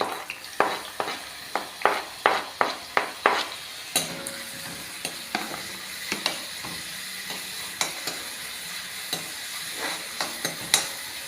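Cut onions sautéing in a pan with garlic for an evening vegetable Manchurian, a rhythmic run of spatula scrapes and clinks over a continuous oily sizzle, close and clear with no talking.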